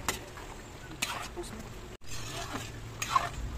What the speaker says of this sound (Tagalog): Halu-haluin nyo, guys, yan, para hindi masunog yung ilalim